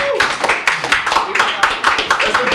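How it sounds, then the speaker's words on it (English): Hands clap with irregular sharp bursts right after a boxing match at a livestream event, close and fairly loud, with some voices mixed in. "everybody, round of applause for Mr. Fucking Beast"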